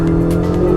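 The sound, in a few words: sports car accelerating at full power on a race track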